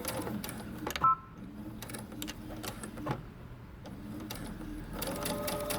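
A sewing machine stitches along the edge of dress fabric, its needle running in a fast, steady mechanical whir with a few brief pauses and clicks, fairly quiet and close.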